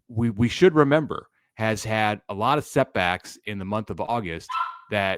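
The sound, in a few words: dog barking in the background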